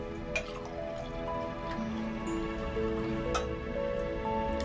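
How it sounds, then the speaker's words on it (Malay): Water trickling and dripping steadily into a glass for a guest at home, a soft continuous pour with small splashy ticks and a faint tonal background underneath, no voices present. "Akmal, tuangkan air si kawannya."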